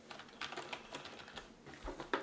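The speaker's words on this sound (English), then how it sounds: "This feels like a really nice keyboard too." Someone types on a Lexma Phantom Gaming keyboard, producing a quick run of close, light key clicks in an irregular rhythm.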